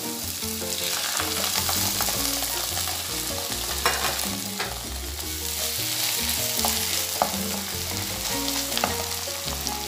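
Ground masala paste for a bitter gourd theeyal sizzles loudly in a hot frying pan while being stirred, a steady dense crackle running throughout with faint scraping of the spoon.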